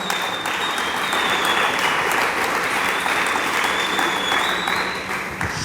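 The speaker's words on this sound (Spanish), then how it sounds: "Entonces, dele palmas al Dios del cielo." A church congregation at a sermon claps in dense, sustained applause, loud and steady throughout, with no pause.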